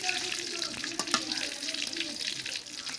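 Bay leaf and dried red chilies sizzle in hot oil while dal is cooked with jackfruit seeds and vegetable stalks, a steady close hiss and crackle running throughout with faint voices in the background.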